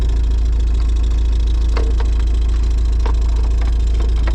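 A steady, loud tractor engine with a new exhaust drones low and constant throughout, with a few sharp wooden cracks and knocks popping up over the rumble.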